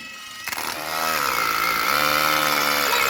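A trigger-driven power tool drives in bolts, spinning up from a brief clatter into a loud, close, steady whine that holds with slight pitch shifts, with no talking.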